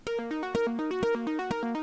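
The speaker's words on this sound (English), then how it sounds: "this nice little arpeggiated synth lead from Serum" A bright, buzzy Serum saw-wave synth lead with a quick filter decay plays a quick repeating arpeggio with short plucky notes and a regular accented pulse, moderately quiet and alone.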